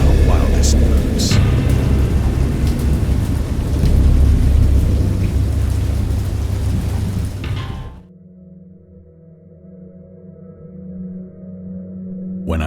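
A thunderstorm in the game Dagon, with heavy rain roaring loudly and rumbling thunder for about eight seconds before it cuts off to near silence.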